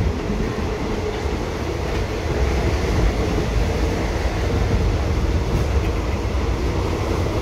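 A Thai third-class rapid train is on the move, heard from inside a carriage as a steady, loud rumble with a faint rhythmic clatter of wheels over the rails throughout.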